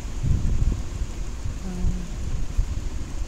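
Rain falling with gusting wind outdoors, a steady close wash of rain noise with low rumbling buffets throughout and no talking.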